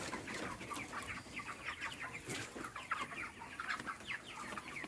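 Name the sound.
broiler chickens clucking in an open raised coop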